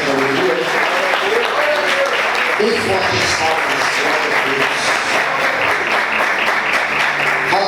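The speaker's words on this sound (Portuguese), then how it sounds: "Você pode aplaudir Jesus com a santa alegria." A church congregation at a praise-ministry festival service applauds with holy joy: dense, steady clapping fills the whole stretch at full volume, with voices calling out over it.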